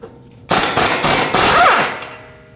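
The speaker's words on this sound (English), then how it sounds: "Use a hammer, tap the knuckle right here, that'll free up the tie rod stud from the knuckle" Hammer tapping a steering knuckle to free the tie rod stud on a 2020-2027 Toyota Corolla, several sharp metallic blows in quick succession, close and loud, with a brief ringing squeal.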